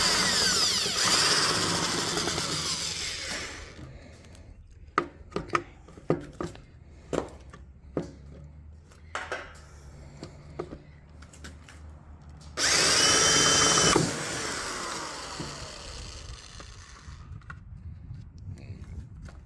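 A power drill drives screws into a wooden birdhouse, with long whirring runs at the start and again midway, separated by sharp clicks and knocks of handling, close and fairly loud.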